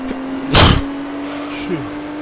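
One sharp, loud sneeze bursts out close to the mic, with a faint second puff afterward, over a steady low engine hum from a Gran Turismo 3 racing game.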